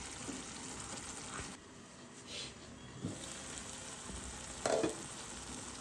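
Hilsa fish pieces frying in oil in a pan for korma, a steady close sizzle with a few brief stirring scrapes and clinks, no voices.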